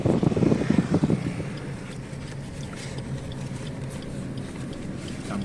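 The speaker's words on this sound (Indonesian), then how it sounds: "Di angin kencang banget." Strong wind buffets the microphone in the town of Pasangkayu, a steady low rumble that is louder at the start and then settles into a constant roar, with a voice briefly heard early on.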